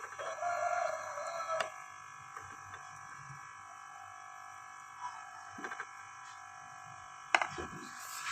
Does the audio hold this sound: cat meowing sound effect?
no